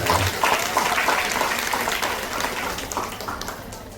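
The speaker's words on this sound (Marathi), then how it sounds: "एकदा स्टार प्रवाहासाठी जोरदार टाळ्या हो" A stage audience at a Marathi entertainment event applauds with a dense, crackling wash of clapping. It starts strong and slowly tapers off, with no voices over it.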